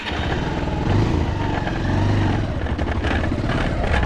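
Motorbike engine held in fourth gear on a rough road, a loud continuous drone with slight rises in pitch and rattling bumps, close to the rider.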